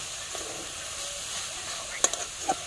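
Cumin, turmeric and salt frying in oil in a pan, a faint steady sizzle with a few sharp scraping stirs near the end, close by, under a voice talking.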